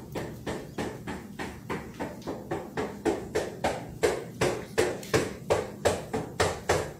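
Banging on a door in a scary clip: steady, evenly spaced knocks, about two or three each second, growing louder and heavier as they go on.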